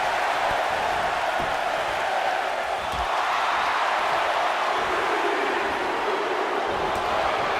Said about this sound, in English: like Byron, listen to this crowd count the next one in.